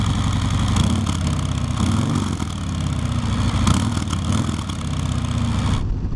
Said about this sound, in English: Harley-Davidson has all their stock pipes usually pretty quiet. And the Sport Glide's no different.